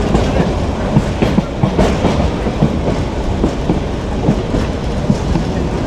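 The Proval Express rolls from Cox's Bazar toward Chittagong, heard from aboard as a loud, continuous rumble with a steady clickety-clack rhythm of wheels over rail joints.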